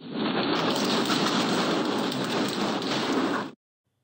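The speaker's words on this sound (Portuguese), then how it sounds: "as pedras de gelo, o granizo chegando aqui no nosso estado" Hailstorm in Rio Grande do Sul, with hailstones falling and pounding surfaces in a loud, dense, steady roar that runs unbroken for about three and a half seconds, then cuts off abruptly into silence.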